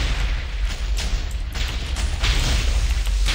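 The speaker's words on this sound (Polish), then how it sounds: "Czy ja te wybuchy robię?" TNT blocks exploding in a round of Minecraft TNT Games: a dense, loud stream of overlapping booms and blasts that rolls on without pause.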